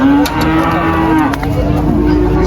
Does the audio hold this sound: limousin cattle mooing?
yes